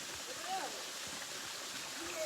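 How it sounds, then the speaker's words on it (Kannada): A waterfall at Ramadurga pours steadily, a broad constant rush of falling water heard from a moderate distance, with brief faint sounds and a short tone over the continuous roar. "ಅಲ್ಲಿ ಫಾಲ್ಸ್ ಡಬ್ರಿ ಅದ ನೋಡು"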